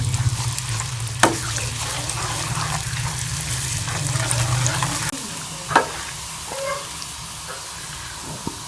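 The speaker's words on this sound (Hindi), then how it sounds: "लहसुन हमारा ब्राउन हो गया।" Steady sizzling of garlic frying in hot ghee for a dal tadka, with a few sharp clinks of a utensil against the pan; the sizzle drops off partway through.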